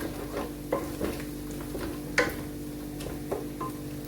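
Kebab masala mixed with yogurt sautés in a pan, with a soft steady sizzle and repeated spoon scrapes and taps as it is stirred at an even pace.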